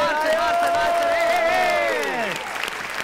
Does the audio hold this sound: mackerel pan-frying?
no